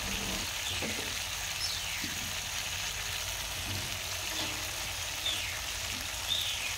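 Eggplant and potato pieces frying in oil in a kadai, a steady, moderately loud sizzle with occasional stirring knocks.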